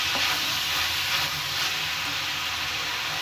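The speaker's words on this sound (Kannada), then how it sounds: "ಹಾಕೊಂಡು ಕ್ಲೀನಾಗಿ ಫ್ರೈ ಮಾಡ್ಕೋಬೇಕು" Curry leaves frying in hot oil in a pan make a dense, unbroken, close-up sizzle that stays at an even loudness throughout.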